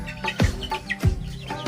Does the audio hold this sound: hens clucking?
yes